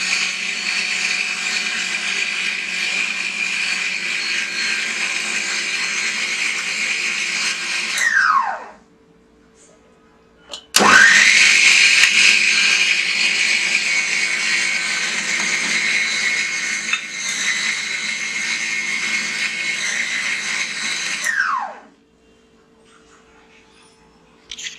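Electric hand mixer whirring loud and steady as it beats fruit cake batter, running for about eight seconds, stopping, then starting again for another long run and winding down, with a brief clatter between runs.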